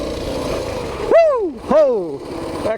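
Coleman BT200X mini bike engine on the move, revving in two quick bursts that rise sharply and fall away, close by, over a low rumbling background.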